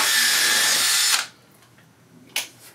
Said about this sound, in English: My drill's dying.